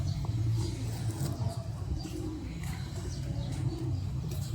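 Pigeons coo softly and continuously in a loft of fancy breeds, low murmuring calls steady under a dull background rumble, with faint chirps and no talk.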